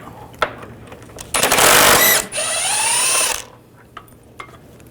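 A power ratchet spins out control arm bolts on a 2009-2017 Volkswagen Tiguan, two loud close bursts of whirring with a rising pitch, then quiet with faint clicks.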